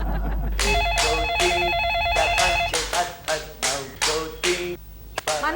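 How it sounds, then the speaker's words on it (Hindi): A telephone rings in a domestic comedy scene, with a repeating electronic trill followed by a series of sharp, evenly spaced percussive ring bursts. "मनु फोन उठाओ।"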